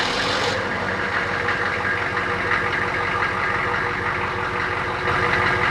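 A military Humvee's diesel engine runs at idle, loud and close, with a steady, even mechanical rumble and a faint knocking texture throughout.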